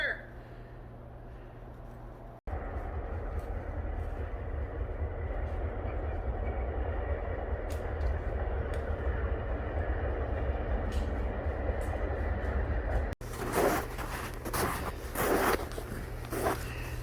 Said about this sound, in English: Train's still rolling through the bush there behind us, using the same track as turn of the century.